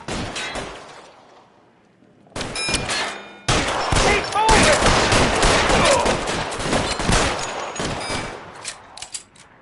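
Bursts of gunfire in the 1940s Los Angeles crime game L.A. Noire break out after a quiet start, growing into a loud, sustained shootout of rapid overlapping shots with sharp isolated cracks near the end.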